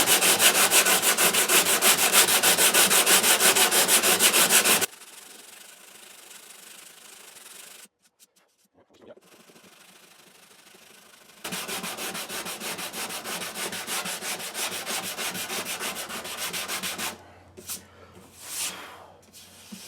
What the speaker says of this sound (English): As I'm sanding, I'm trying to sort of keep that symmetry.